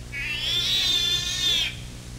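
A cat lets out a single long, drawn-out meow that rises and then falls, loud and close, with no other sound around it.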